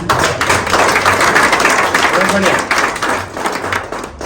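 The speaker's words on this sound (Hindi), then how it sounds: "तालियां बजाओ मुझे" Steady applause from an audience at a poetry recitation, loud and continuous with thumps and taps, a voice speaking over part of it.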